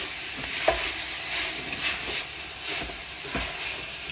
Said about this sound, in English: Continue stir frying as well.